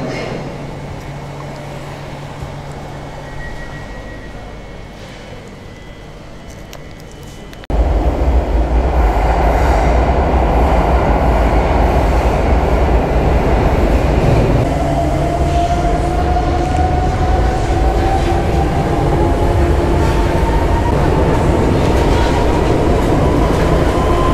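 An SKL train rolls past at close range, the loud roar of wheels and rail noise arriving abruptly after a quieter stretch, with a long rising wheel squeal drawn out over the steady clatter.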